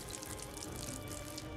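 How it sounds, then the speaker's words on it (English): Orange soda bottles poured out onto the ground in Project Zomboid, a steady close splashing gush of liquid that runs without a break and with no voices. "and I'm going to pour them on the ground"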